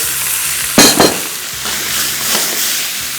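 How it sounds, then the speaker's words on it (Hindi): Bitter gourd and minced meat frying in a pan, a loud steady sizzle with two sharp bursts of crackling as the keema goes in, then settling back to an even hiss. "करेले हो गए फ्राई, कीमा इसका बहुत बचा हुआ है तो कीमा हम इसमें शामिल करके"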